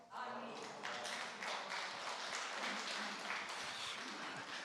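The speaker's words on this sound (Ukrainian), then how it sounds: "Це рідко буває, коли аплодисменти звучать, коли вірші розповідають." A church audience applauds after a recited poem, a steady spread of many hands clapping at moderate distance, with some voices mixed in.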